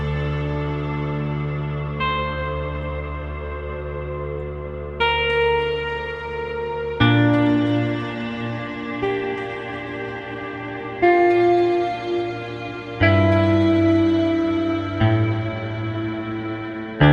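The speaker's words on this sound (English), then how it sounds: "So yeah, these snap strings are going to sound like this along with the picture." Snap strings from Spitfire's Contemporary Drama Toolkit play sharp plucked chords that shift every couple of seconds, each attack ringing out with echo and reverb in a steady, stepping trailer-style pattern.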